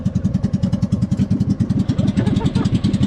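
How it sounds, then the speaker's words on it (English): A loud boat engine chugs nearby off Basilan, Philippines, with a fast, regular throbbing pulse and some rattling clatter, running steadily throughout. "I gotta cut it here because the engine's quite loud."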